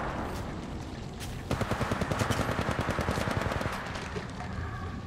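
Apex Legends Mobile gunfire, a steady rapid burst of automatic shots repeating close and loud for a couple of seconds, with lighter shots before and after.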